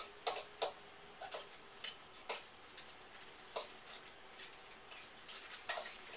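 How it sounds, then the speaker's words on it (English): Crab meat folded into a crabcake mixture with a fork, heard as a run of quick, quiet ticking scrapes against a bowl, close and unevenly spaced with no talk. "I'm going to use a fork to help incorporate this."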